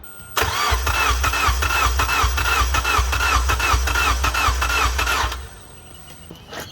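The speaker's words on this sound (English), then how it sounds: "I'll go turn the ignition on and see if this works." A 2004 Honda Accord's K24 engine cranks and catches, chugging rhythmically with a loud, steady pulse for several seconds before it stops.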